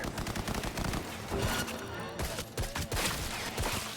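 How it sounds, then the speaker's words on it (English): Bursts of rapid automatic gunfire from a Cyberpunk 2077 firefight, loud and dense, continuing throughout the clip with game sounds mixed in. "He was shooting before he even knew where I was."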